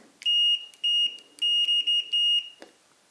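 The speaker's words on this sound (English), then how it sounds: "the buzzer now sounds a lot better" Continuity buzzer of a Fluke 101 multimeter giving a clear, steady high tone in six short beeps of varying length, close and loud, with silence between and a faint clunk at the end.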